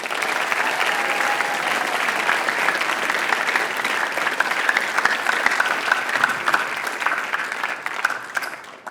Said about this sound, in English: Can we just give another round of applause to Maddie?